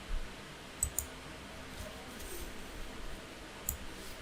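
Computer mouse clicks during a software installation: a few sharp, quiet, isolated clicks spread over a faint background hiss, no talking.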